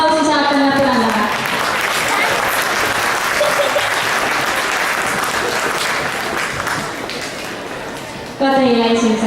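At a senior standard ballroom dance championship, an audience breaks into steady applause that fades slightly over time, opening and closing under an announcer's voice over the loudspeaker.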